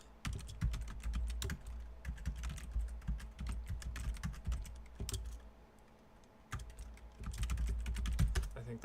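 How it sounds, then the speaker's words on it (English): Rapid typing on a computer keyboard while installing Waydroid on Ubuntu, with close clattering keystrokes in quick bursts, a short pause midway, then heavier key presses. "We'll type it in again."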